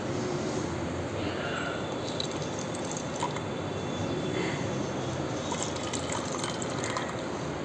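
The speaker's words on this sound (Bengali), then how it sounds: "খানিকটা জল আমি এতে ফেলে দেবো।" Water is poured out of a molly fish aquarium, a steady, continuous gushing and splashing that stays even and close for the whole stretch, with no clear talk.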